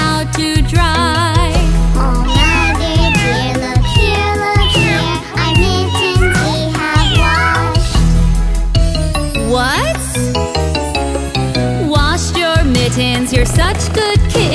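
Children's song voices sing repeated meows imitating kittens, bright and loud over busy music with bells, the meows rising and falling in quick rhythmic phrases.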